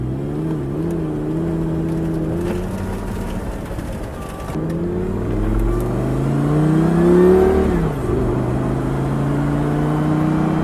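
A 2007 Lamborghini Gallardo with a 5-liter V10 runs close by, its engine note rising and falling through several revs with a strong swell near the end before settling to idle.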